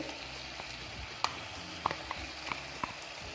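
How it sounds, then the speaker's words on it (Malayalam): Onion with ginger, garlic and green chilli paste sautéing in a pan for quail biryani, a soft continuous sizzle broken by several sharp clicks of the stirring spoon against the pan. "നമ്മൾ ഒരു ഇഞ്ചിയും വെളുത്തുള്ളി പച്ചമുളകൊക്കെ ചേർത്ത് കഴിഞ്ഞാൽ 1-2 സെക്കൻഡോളം നന്നായിട്ട് തന്നെ വഴറ്റിയെടുക്കാം"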